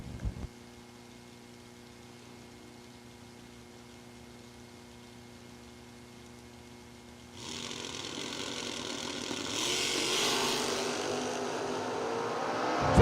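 A drag racing Camaro with a GW transmission sits at a low engine idle before launching into a loud, sustained roar as the cars leave the line at the track.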